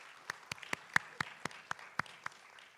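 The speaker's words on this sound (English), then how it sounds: "a big round of applause to Bina Parvo and team" Sparse, scattered hand claps from a small audience at the 4th Asia Pacific Family Business Summit, about ten distinct quiet claps spread over a few seconds with no voices.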